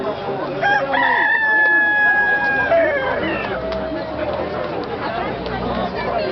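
A rooster crows loudly and close by at a busy chicken market in Bahir Dar, one long drawn-out call, followed by clucking fowl amid market chatter and voices talking nearby.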